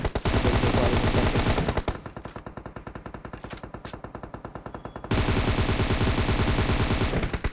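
Rapid automatic gunfire erupts in long bursts during a fight in a battle royale shooter game, loud dense rattling that eases into sparser, quieter volleys before heavy firing resumes.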